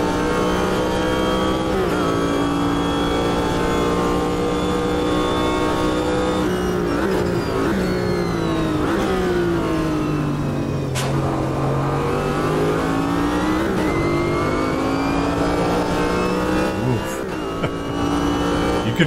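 Corvette GTP Group C race car engine at full song on track at Hockenheim, a loud, sustained near howl that climbs and dips with gear changes and throttle through the lap.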